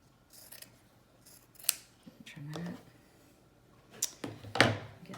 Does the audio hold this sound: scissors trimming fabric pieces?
yes